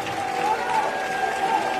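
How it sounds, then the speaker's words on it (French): Spectators in a basketball arena applaud the coaches during pregame introductions at a FIBA Europe Cup game, with steady dense clapping and a tonal hum underneath. "Je vous invite à les applaudir."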